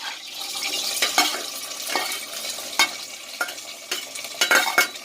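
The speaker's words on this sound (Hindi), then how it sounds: "ये भिंडियाँ हैं जो हमने काट के रखे थे, अब हम इसे डेगची में डालेंगे।" Chopped okra tipped into a hot degchi pot for a mixed bhindi salan, giving a steady close sizzle and frying hiss broken by repeated stirring scrapes and clinks over about five seconds, with no talking.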